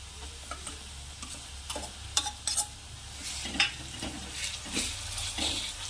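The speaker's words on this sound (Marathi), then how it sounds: "आपला कांदा लालसर झालेला आहे आता मी हे वाटण ॲड करते" Ground masala paste goes into browned onions frying in a pan, producing a quiet sizzle broken by soft scraping stirs and taps of a spoon. No one speaks.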